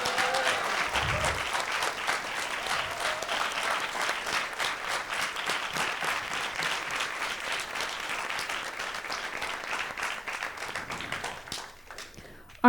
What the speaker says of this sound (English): How about an applause for our amazing instructors?